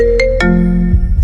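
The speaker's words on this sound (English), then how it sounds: "my phone rang." A phone ringtone plays loud and close: a bright electronic melody of short tonal notes in a steady repeating pattern, with no voices over it.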